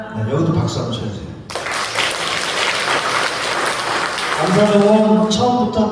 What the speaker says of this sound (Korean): 여기도 박수 한번 쳐주세요.